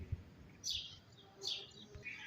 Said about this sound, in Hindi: परिंदियां दी जो चैं चैं होंदी है ना, वो बड़ी प्यारी लगदी है